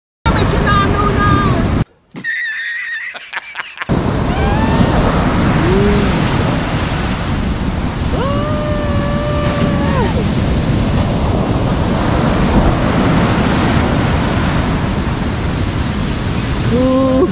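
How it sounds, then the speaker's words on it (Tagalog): Strong ocean waves crash continuously on a beach at San Felipe, Zambales, a loud dense roar of surf and wind buffeting the microphone, with people talking and exclaiming over it and a brief muffled break near the start. "At least nakasaksi tayo ng ganong kalakas na alon."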